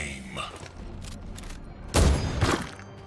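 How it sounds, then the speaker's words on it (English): Rifle fire from a Vindicare assassin in the video game Warhammer 40k Chaos Gate Daemonhunters, a heavy booming shot that lands suddenly after quieter game sounds, followed by a rolling rumbling tail. "Our Vindicare is going to continue to fire."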